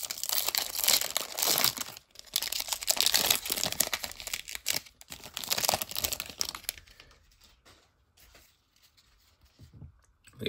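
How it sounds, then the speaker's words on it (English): A 2022 Bowman Draft Asia Edition baseball card pack wrapper is ripped open. It makes loud, close crinkling and tearing bursts for several seconds, then softer, sparse rustling and handling as the cards come out. "we'll rip open this 2022 Bowman Draft Asia Edition"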